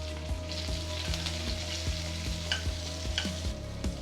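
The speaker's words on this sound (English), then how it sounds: "Thereafter we will add sliced onions." Sliced onions, mustard seeds, green chilli and curry leaves frying for a red poha breakfast, a continuous close sizzle with a steady rhythmic stirring tap repeating roughly twice per second.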